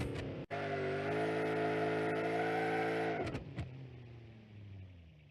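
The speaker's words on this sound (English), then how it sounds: "Let's do a nitrous hit." An electric car in BeamNG.drive takes a nitrous hit, giving a loud, sustained whining engine tone with steady harmonics that holds for about three seconds, then cuts off into brief thumps and a quieter fading tail.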